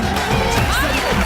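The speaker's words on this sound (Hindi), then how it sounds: "जोरदार तालियां जैमी के लिए।" A studio audience at a comedy show cheers and claps for the arriving host, a loud, continuous crowd roar with shouts layered through it and no pauses.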